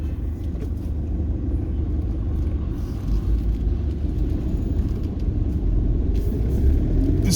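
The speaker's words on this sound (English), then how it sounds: "And obviously the truck traffic is just" Heavy truck traffic on an industrial road beside a chemical works in Gujarat, India, makes a steady low rumble that stays dense and unbroken throughout, with no talk.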